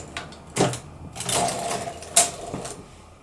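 A knitting machine carriage sliding across to knit one row of i-cord, giving a short run of mechanical clicks and swishing rasps with a couple of sharper clacks, close and fairly quiet.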